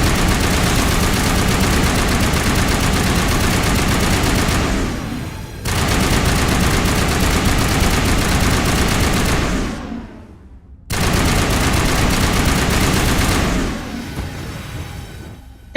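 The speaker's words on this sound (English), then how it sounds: "What are you shooting at, boys?" Sustained heavy automatic gunfire in Mass Effect Legendary Edition, loud and dense, rattling nearly nonstop in long bursts with two brief pauses, no speech over it.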